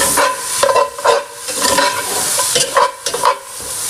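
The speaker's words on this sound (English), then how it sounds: "scraping the bottom of the pot." A flat spoon scrapes across the bottom of a pot of Cajun rice and gravy with pork, giving repeated rhythmic scraping strokes over a close, loud sizzling cook.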